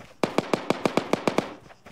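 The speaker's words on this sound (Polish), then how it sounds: "Słyszałem strzały śmiertelne." Gunfire in the ARMA III battle royale game, a rapid even burst of about nine sharp cracking shots at mid distance, fairly loud and with no talking.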